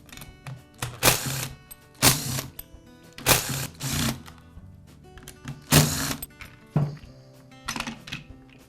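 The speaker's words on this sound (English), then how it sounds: "Next, I'll remove the starter assembly." Poulan chainsaw starter assembly being removed, with a series of sharp, loud clunks and rattling plastic knocks spaced roughly a second apart, close and unaccompanied by speech.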